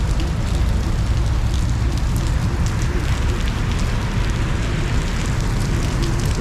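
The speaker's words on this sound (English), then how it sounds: "The people are running because of this heavily raining." Heavy rain pours down on a street in Chow Kit, a dense steady roar of drops hitting the ground and surfaces, continuous and loud throughout with no voices.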